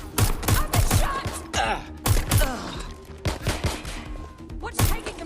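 Rapid bursts of gunfire from the video game Watch Dogs Legion, sharp repeated shots and thuds in quick volleys, loud and close, with shouted voices mixed in among the shooting.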